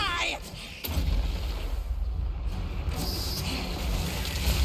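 Grenade explosions in the Total War Warhammer battle game, with Skaven forces in action: a sharp burst followed by a continuous heavy low rumble of blasts, loud and dense, with a faint voice near the start.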